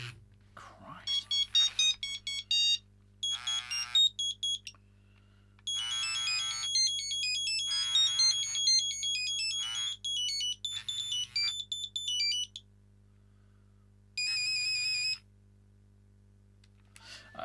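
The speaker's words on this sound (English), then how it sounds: "Oh, there are more than 14 ringtones." A Nokia 7110 mobile phone from 1999 plays a run of monophonic ringtone melodies, several short beeping tunes separated by brief pauses, each clear and close, with a steady low hum underneath.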